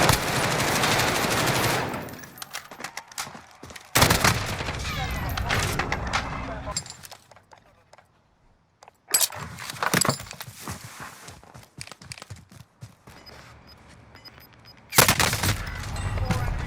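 Gunfire in the online shooter Call of Duty: Warzone comes in several sharp bursts of rapid automatic fire with a few scattered single shots and clatter between them, while players talk over the action.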